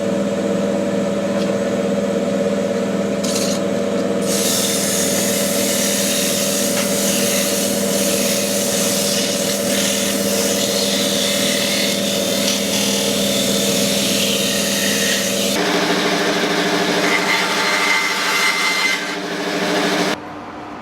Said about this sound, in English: I'm putting this into my drill press and sanding this down to fit the holes